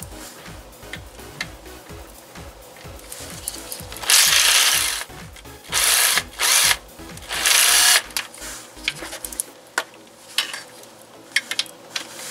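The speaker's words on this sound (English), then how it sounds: "That impact is pretty handy," Impact wrench rattling bolts loose from the oil pan of a Kia Forte, in several loud bursts of a few seconds each over a quieter background of clinks and handling.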